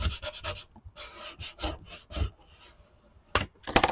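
Glued paper card piece being burnished by hand, giving a series of short, close scraping and rubbing strokes in uneven bursts, with a brief pause before a final flurry of quick rubs.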